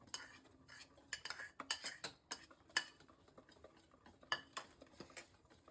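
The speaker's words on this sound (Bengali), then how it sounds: "এখন আমরা দিব ডিম। এটাকে নাড়িয়ে নিচ্ছে।" A utensil stirs eggs into chocolate cake batter in a bowl, giving repeated scraping clinks and soft wet swishes in an uneven rhythm, close and fairly quiet, with no talk.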